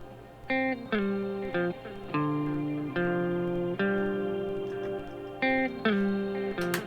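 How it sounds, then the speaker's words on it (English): Sustained electric guitar notes play a slow melody, doubled and run through a Valhalla Shimmer reverb, washed in airy, shimmering reverb that lingers between attacks, with no one speaking. "One is running through a Valhalla Shimmer reverb."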